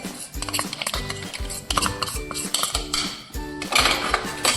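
A metal spoon stirs gram flour in a pan, scraping and clinking against the metal in a steady, repeated rhythm, close and fairly loud.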